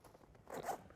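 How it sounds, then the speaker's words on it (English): A zipper being pulled open on a Rackham Aero PD board bag, one quick rasping run that grows louder near the end of a short, close take. "You're going to unzip."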